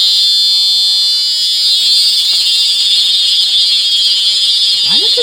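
Fire alarm sounding during a building alarm test, a loud continuous high-pitched electronic tone held for several seconds without a break, close and dominant, with faint background noise near the end.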